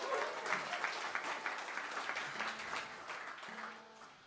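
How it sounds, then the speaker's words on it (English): A small live blues and rock crowd applauds the sound engineer, with dense clapping that holds steady and then slowly thins out. Faint voices and a few stray tones sit underneath. "And a round of applause for Tom doing the sound and the monitors for us tonight."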